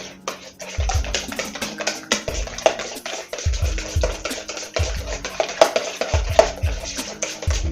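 Eggs with cilantro being whisked in a bowl for an omelette, repeated scraping and clinking strokes of utensil against the bowl in uneven bursts, close and fairly loud.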